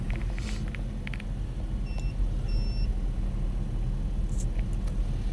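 A 4x4 Daihatsu Jumbo Cab mini truck with a 5-speed manual idles with a low, steady engine rumble close by, plus a couple of faint beeps.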